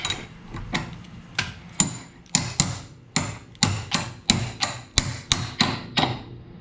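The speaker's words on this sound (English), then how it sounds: "It's a hammer." Sharp hammer blows ring out one after another, about two a second, each a crisp metallic strike with a short decay, close and clear, during engine removal on a Honda Civic.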